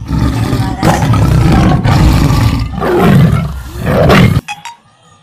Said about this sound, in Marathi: त्या वाघाच्या डरकाळीमुळे सगळे जनावर पळू लागले।